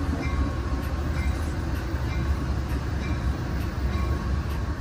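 Riding aboard an Amtrak Metroliner cab car on the Northeast Corridor toward Washington, a steady, loud rolling rumble fills the cabin, with faint rhythmic clicks of the wheels passing over track joints.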